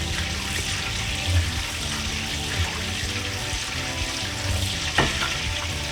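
Butter bubbles and sizzles steadily in a pan as it browns, a continuous close frying hiss with a brief clink near the end.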